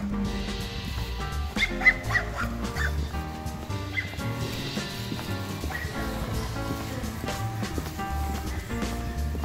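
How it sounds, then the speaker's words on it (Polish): A dog yips and barks in short repeated bursts, with some whimpering, on an evening walk through Bystra village, amid a busy background of music-like tones and other noise. "Zostaw tego pieska."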